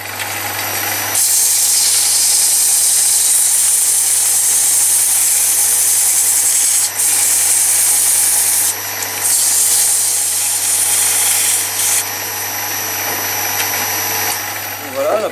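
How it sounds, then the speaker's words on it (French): A wooden teapot lid spinning on a lathe is sanded, giving a continuous loud hissing, rubbing whir over the motor's steady hum, with brief pauses near the end. "Maintenant, je vais pouvoir donner un petit coup de ponçage."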